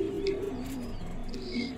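Magpie pouter pigeons in a loft in Bhopal, Madhya Pradesh, give soft, low cooing calls that come and go steadily over a faint background.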